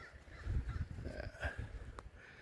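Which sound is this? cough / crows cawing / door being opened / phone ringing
crows cawing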